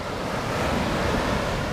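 Surf breaking steadily on Amberley Beach in New Zealand, with continuous washing roar of waves over sand and wind noise on the microphone, no voices.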